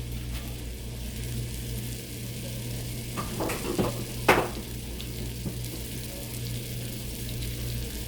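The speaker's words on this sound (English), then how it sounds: "So I don't know if you can hear it, but it's sizzling already." A soft, steady sizzle of salmon steaks frying in a pan, with a few brief clinks and scrapes of utensils near the middle.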